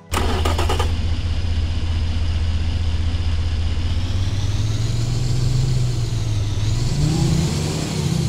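A car engine in the Automation car company tycoon game fires up with a sharp starter burst, then holds a loud, steady rumble that climbs in pitch as it revs, running alone without talk.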